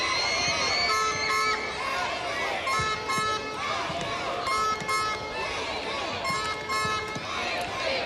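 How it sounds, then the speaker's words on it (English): A local Estonian home crowd at an Under-21 EURO qualifier football match keeps up a loud, constant din of chanting, shouts and cheering, steady for the whole stretch, with a commentator's voice woven in. "the Estonian local crowd still making a constant din here, even though their team are 8-1 down with 5 minutes to go"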